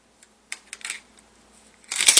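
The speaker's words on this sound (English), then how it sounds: "The scissors on this aren't really that bad either." Victorinox pocket knife scissors snip a few times, giving light, crisp metallic clicks at close range, with a denser burst of sharp clicking at the end and no talk.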